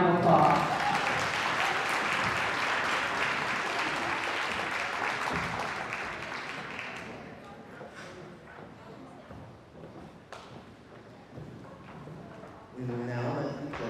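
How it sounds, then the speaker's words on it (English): A pageant audience applauds the contestants, loud sustained clapping that fades over several seconds into scattered claps, before a voice begins speaking near the end. "Let's give them all a round of applause."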